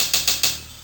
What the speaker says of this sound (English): this one, which is called Drum and Bass 98, which is a kind of rattly funk break